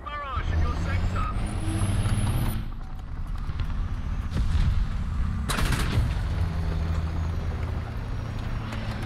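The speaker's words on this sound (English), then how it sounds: "Artillery barrage in your sector." Artillery barrage in the War Thunder tank game, heard as dense rumbling booms and crackling impacts over a steady engine drone, with a sharp burst midway and a pitch-rising whine early on, loud and continuous.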